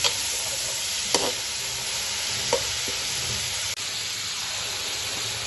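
Meat for chicken biryani fries in a pot with a dense, steady hiss and sizzle, broken by a few sharp scrapes of a stirring spoon.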